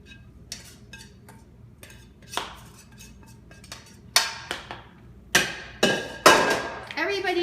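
Mashed potatoes being mixed with cabbage, leeks and onions in a pot, a series of sharp spoon clanks and scrapes against the metal, growing louder and more frequent near the end.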